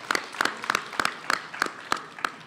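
An audience applauds a poet at a spoken word event, with brief evenly spaced claps heard close and fairly faint, no talking over them.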